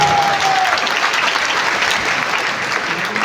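A seminar audience at an RCM business event in Purnia gives loud, dense applause that holds steady for the whole stretch, with a brief tone at the very start.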